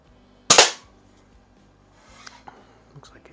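A single sharp crack from a West German FB Record Jumbo air pistol firing a JSB pellet, close and loud, followed by faint handling clicks and rustle.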